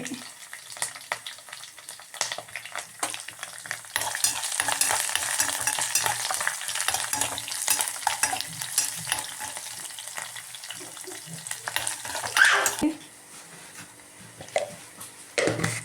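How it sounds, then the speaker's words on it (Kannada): Mustard seeds and dry red chillies frying in hot oil for a tempering, a close, busy sizzle and crackle with scattered pops and stirring scrapes, dropping quieter near the end. "ಸಾಸಿವೆ ಆದಮೇಲೆ ಒಣ ಮೆಣಸಿನ್ಕಾಯಿ ಹಾಕ್ತಾಯಿದ್ದೀನಿ."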